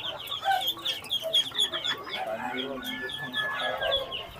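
Bangkok chickens clucking and calling repeatedly at a bird market in Plered, Cirebon, several birds close by, with people talking in the background.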